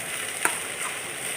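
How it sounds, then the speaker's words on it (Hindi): Okra (bhindi) sabzi frying in a pan, a steady soft sizzle with a brief stirring scrape near the start, close and moderately quiet. "इसके बाद इसको अच्छे से फिर से भून लेते हैं"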